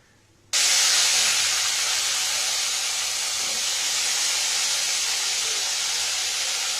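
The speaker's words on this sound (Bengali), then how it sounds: "এবার আমি এর মধ্যে আলুগুলো একেবারেই ভেজে নেব।" Potatoes drop into hot oil with turmeric, setting off a sudden loud sizzle that holds as a steady, bright hiss for several seconds close by, with no talking.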